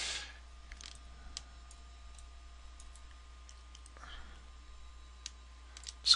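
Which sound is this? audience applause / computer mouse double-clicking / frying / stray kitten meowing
computer mouse double-clicking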